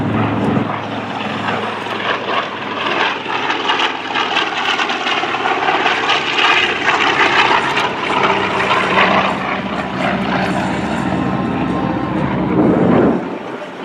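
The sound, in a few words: TBM Avenger warbird aircraft engine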